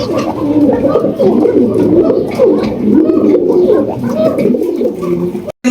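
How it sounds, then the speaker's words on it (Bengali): A pair of large pigeons coo close by in a loud, rolling series of repeated throaty calls that keep going for several seconds, with a faint murmur of people in the background. "আমরা দেখতে পাচ্ছি বিশাল বড় সাইজে একজোড়া স্ট্রেচার কবুতর"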